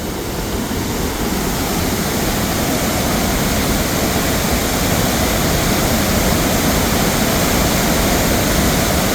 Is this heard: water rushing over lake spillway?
yes